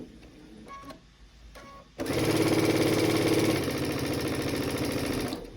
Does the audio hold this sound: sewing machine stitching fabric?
yes